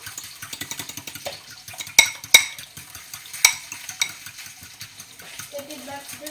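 A utensil stirs scrambled eggs in a pan during breakfast cooking, giving a quick run of soft scraping strokes with a few sharp metallic clinks against the pan, close and fairly quiet, with a brief voice near the end.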